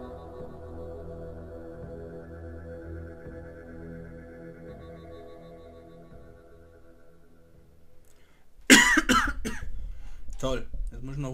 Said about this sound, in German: Toll, jetzt muss ich noch husten.